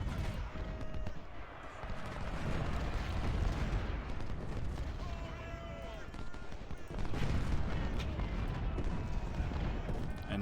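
Artillery battery firing in the Ultimate General: Civil War strategy game, dull booms and crackling volleys repeating over a dense, continuous battle din, with a voice speaking over it.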